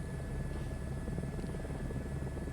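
A helicopter flying near the Grand Canyon in Microsoft Flight Simulator 2024 gives off a steady, even rotor drone with a faint whine, continuous and moderately quiet, with no talk.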